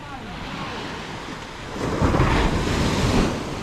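Ocean waves washing in at high tide, a steady broad roar of surf with wind buffeting the microphone, swelling louder in the second half.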